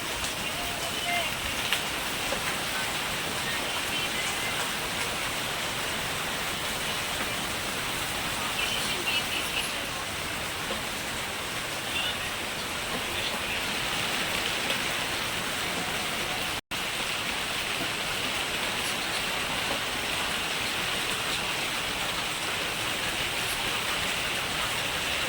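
Steady rain falls in Vijayawada during flooding, a dense, even hiss of drops spread across the whole stretch without pause, close and constant throughout.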